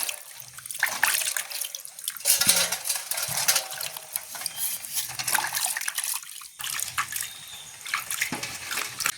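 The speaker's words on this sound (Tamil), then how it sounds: "நல்ல வடிவாக கிழங்கெல்லாம் ஒரு ரெண்டு மூணு தண்ணியில் கழுவி எடுத்துட்டோம்" Cassava tubers are sloshed and rubbed by hand in a basin of water in a village setting, a continuous splashing and swishing with brief pauses, close and fairly loud.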